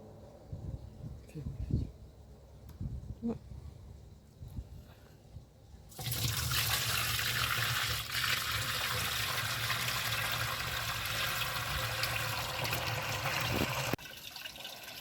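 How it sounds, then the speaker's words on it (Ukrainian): Homemade wine strained through gauze into a food-grade barrel makes a steady, loud pouring rush that starts suddenly and runs for about eight seconds. Quieter handling noises and people talking come before and after it. "на харчову бочку і переціджуємо все вино, яке в нас утворилося"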